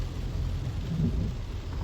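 Steady rain falls during a Canadian summer, a soft continuous hiss with a low thunder rumble swelling briefly near the middle.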